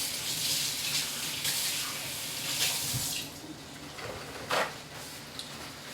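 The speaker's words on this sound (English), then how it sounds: "Let me wash my hands." A kitchen tap runs while someone washes their hands during Thanksgiving turkey preparation. The water pours in a close, steady hiss broken by a few splashes and a faint clunk near the end.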